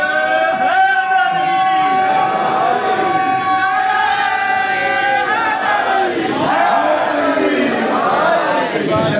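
A large audience at a religious gathering chants slogans together in loud, sustained, rhythmic unison, a dense crowd roar of voices filling the space throughout.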